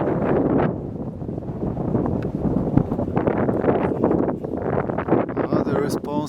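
Wind buffets the microphone beside a domestic vertical-axis wind turbine in Ireland, loud rumbling gusts rising and falling throughout, with a voice speaking underneath.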